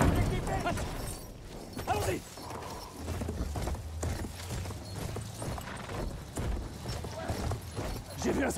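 Rhythmic hoofbeats of a horse galloping in Battlefield 1, steady and fairly loud, with game effects and occasional voices mixed in.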